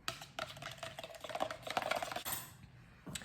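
Matcha powder whisked in a cup, giving a quick, steady, soft clattering rhythm of the whisk that runs for a few seconds, faint and close, then eases off near the end.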